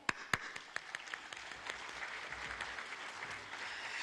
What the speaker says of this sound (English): putting our hands together and